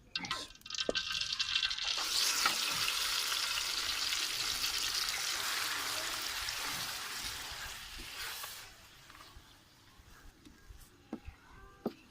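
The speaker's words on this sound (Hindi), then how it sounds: "अभी ग्राइंड करके इसमें तेल भी डाल दिया, गर्म हो गया, अभी डालेंगे" Ground masala paste for karela and chana dal hits hot oil in a kadai with a loud, sustained sizzle that gradually fades, followed by softer stirring clicks and taps.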